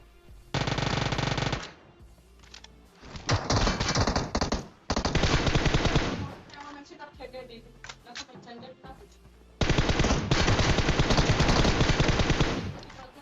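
Automatic gunfire from the video game PUBG Mobile comes in several long bursts of rapid shots separated by short pauses, loud and close, with someone talking over and between the volleys.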